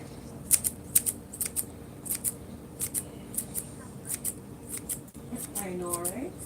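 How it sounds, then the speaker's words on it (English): Kitchen scissors snip through green herbs for a broccoli, franks and mushroom omelette, giving a quick series of sharp, close metallic clips in an uneven rhythm, with a soft rustle near the end. "Use my scissors and cut up some greeneries."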